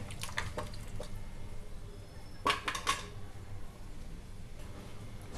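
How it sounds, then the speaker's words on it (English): A spoon stirs garlic cloves into a wet tomato tamarind chutney mixture, giving quiet squelching with a few clinks and scrapes against the pot, close and faint. "add 1 cup of garlic cloves into the tomato tamarind mixture and mix all of them well"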